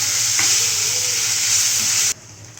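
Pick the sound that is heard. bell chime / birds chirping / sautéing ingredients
sautéing ingredients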